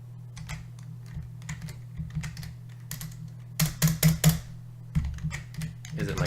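Rapid, uneven clatter of keys on a computer keyboard, close and fairly quiet, with a few louder bursts of quick strokes near the end over a steady low hum.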